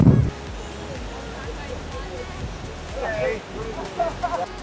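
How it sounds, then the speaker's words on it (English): Gale-force wind buffeting the microphone on the waterfront at Hydra, Greece, a loud continuous rumbling roar with a gust at the start and faint voices and clatter underneath. "it is extremely windy today"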